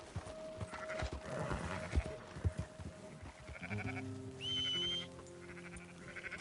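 In Red Dead Redemption 2, horse hooves clip-clop over the ground while sheep bleat in repeated calls and a horse briefly whinnies nearby.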